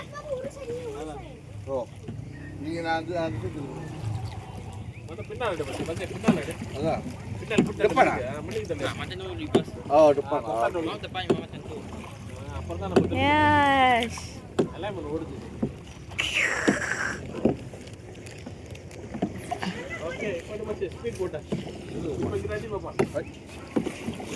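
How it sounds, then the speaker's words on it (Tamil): A kayak paddles along a river, with water swishing and splashing against the paddle and hull under wind noise while several people talk and call out throughout. "இப்போ நாங்கள் காயாக் பண்ண ஸ்டார்ட் பண்ணிட்டோம்"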